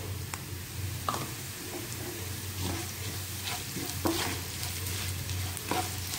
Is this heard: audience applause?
no